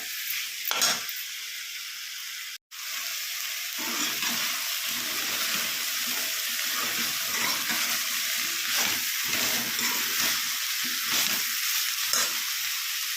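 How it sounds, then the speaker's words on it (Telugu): Raw banana pieces sizzle and fry in a pan for a tomato gravy curry, a steady close hiss of oil with occasional stirring scrapes, broken by one brief silent gap, no talk. "అన్ని ముక్కలు వేసి ఒకసారి మగ్గనివ్వాలి."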